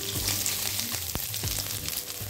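Onions, chopped green chillies and nine or ten garlic cloves hitting a hot pan for a bottle-gourd seed mash, a steady close sizzle with a few short scraping stirs and clinks, no talking.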